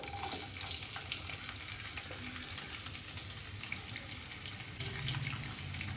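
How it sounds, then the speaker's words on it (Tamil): Steady, dense sizzling of onions frying in hot oil, continuous and close, with occasional faint clinks and stirring sounds. "நல்லா வெங்காயம் வதங்கட்டும்"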